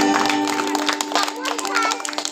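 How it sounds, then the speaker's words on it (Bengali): An audience at a Bengali literary society recitation program bursts into dense, scattered clapping, heard together with voices and a sustained tonal hum in the room. "তার জন্য একটা জোরে হাততালি হয়ে যায়।"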